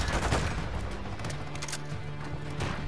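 Rapid gunfire from a Call of Duty: Modern Warfare match on the Shipment map, loud bursts and fusillades overlapping continuously throughout, with no voices over the shooting.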